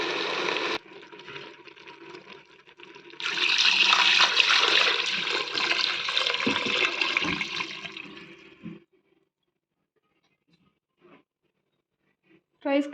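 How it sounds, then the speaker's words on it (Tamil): Water pours into a pot for chicken biryani rice, a loud gushing flow for several seconds that stops abruptly, followed by near silence and a few small clinks. "5 டம்ளர் தண்ணி ஊற்றிக்கலாம்."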